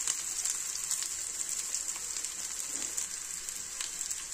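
Onions and spices for malai kofta fry in a pan with a dense, even sizzle that holds steady and close throughout, with no talk.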